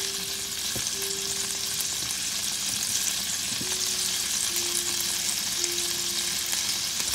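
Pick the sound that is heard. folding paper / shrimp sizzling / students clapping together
shrimp sizzling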